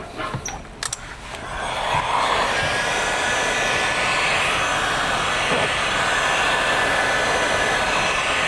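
A heat gun post-heats a vinyl door skin on a 1996–2002 Toyota 4Runner, its steady high-pitched blowing whine starting after a few clicks and holding loud and even to the end.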